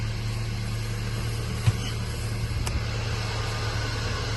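A car cruises along a highway after a crankcase ventilation valve repair, heard from inside as a steady low engine and road drone with a couple of faint clicks and no talking.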